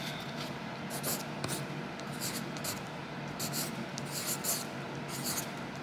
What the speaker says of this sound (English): I'm gonna write Target.